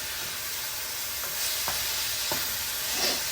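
Meat browning in a pan for dirty rice, a steady hiss of frying with a few faint spatula scrapes, close and even, with no voices.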